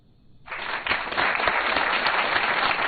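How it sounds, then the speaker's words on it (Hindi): A studio audience bursts into applause after a brief quiet start, the clapping swelling quickly and holding as a dense, steady wash of hands. "तालियों को जरा रोक के रखिए"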